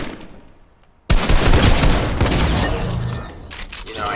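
Gunfire in Fortnite battle royale, pre-firing at a wooden building wall, bursting in suddenly after a quiet moment as a dense, loud, continuous fusillade of rapid shots that rolls on for several seconds.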